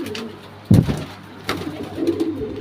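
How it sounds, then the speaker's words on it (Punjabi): A pigeon coos nearby in a loft in a few low, throaty bursts, with soft rustling and faint background noise between calls. "ਇੱਕ ਕਬੂਤਰ ਦੂਜੇ ਖੁੱਡੇ ਚੋਂ ਇੱਧਰ ਆ ਗਿਆ"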